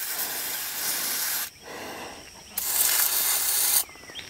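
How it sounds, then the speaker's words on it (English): Two long hissing sprays of PB Blaster penetrating oil from an aerosol can, close and loud, separated by a short pause with faint rustling, aimed at stuck injectors on a skidder. "Let me spray it with some PB Blaster."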